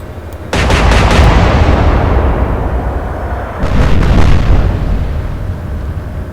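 Naval guns fire in the Atlantic Fleet game, two heavy booming salvos a few seconds apart, each a loud sharp blast trailing into a long rumbling decay.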